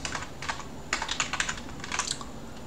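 Someone types a command on a computer keyboard during an Arch Linux install: a quick run of close, crisp key clicks in uneven bursts with brief pauses, and no talking.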